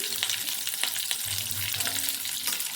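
Fresh curry leaves drop into hot oil with fried green chillies and crackle and sizzle in a steady, close spit and hiss without pause, with no talking.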